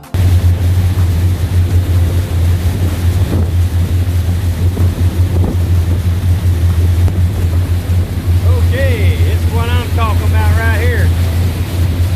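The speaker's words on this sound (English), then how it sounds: "Big old diesel engines running." The big diesel engines of a Lake Superior tour boat throb in a loud, constant low hum, with wind and water noise over it. Near the end, a person talks over the engines.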